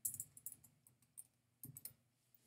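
Keys clack on a computer keyboard in short, quiet bursts of a few presses each, with brief pauses between groups in a quiet room.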